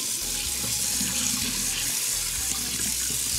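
Water runs steadily from a tap into a sink while crappie are being bled, a continuous close splashing hiss with no talk.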